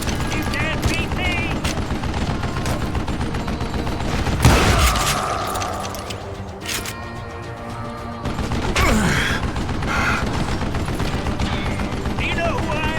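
Gunfire in the Western shooter video game Call of Juarez Gunslinger: a loud steady stream of shots and heavy booms, with brief sharp blasts standing out and game voices shouting over the din.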